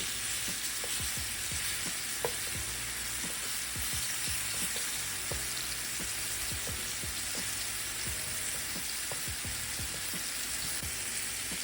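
Beef searing in a hot pan: a steady close sizzle with quick crackles and small clicks and scrapes of a utensil, fairly quiet and even throughout, no talking.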